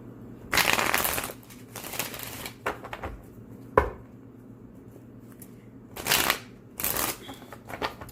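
Tarot cards are shuffled close by in a few separate riffling bursts, split by pauses and a sharp tap or two, with faint background hum.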